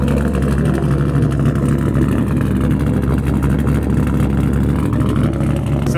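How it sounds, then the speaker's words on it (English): An LS V8 engine swapped into a Mazda Miata idles steadily with a deep, loud, lumpy rumble that stays constant and close throughout. "So I love the idle on the LS Miata."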